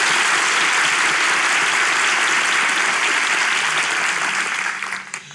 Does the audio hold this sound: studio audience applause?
yes